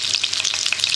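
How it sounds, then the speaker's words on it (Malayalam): Marinated tandoori chicken pieces fry over a low flame in a pan of butter and oil, giving a steady close sizzle with crackling spits throughout. "ഒന്ന് മെൽറ്റായി വരുമ്പോൾ നമുക്ക് നമ്മുടെ ചിക്കൻ പീസ് ഇട്ട് കൊടുക്കാം"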